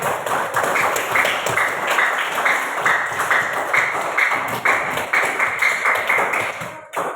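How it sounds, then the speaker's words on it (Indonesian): Students in a sixth-grade religious education class clap together after role-play performances, a loud, close, rhythmic patter of many small hands keeping a fairly steady beat before fading out. "Tepuk tangan untuk kita semua."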